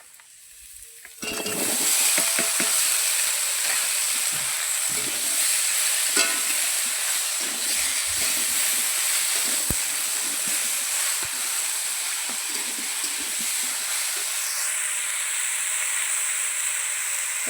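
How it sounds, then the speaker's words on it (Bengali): Chopped vegetables hit a hot pan with turmeric and start a loud, steady sizzle and hiss that carries on close for the rest of the stretch, with a few stirring knocks and no talk. "এই যে কাটা সবজি দিয়ে দেবো।"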